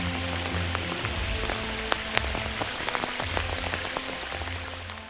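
Hail shower pelting down outdoors during a trout-fishing opening day, a dense steady patter of icy pellets with sharp individual impacts cracking through, continuous and close for the whole stretch with no voices.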